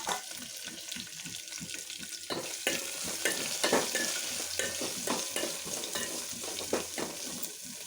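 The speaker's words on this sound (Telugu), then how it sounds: "ఉల్లిపాయ పచ్చిమిర్చి వేసేద్దాం." Chopped onion and green chillies sizzle in a pan while a utensil stirs them in quick repeated scrapes and taps, the frying hiss continuous and close throughout.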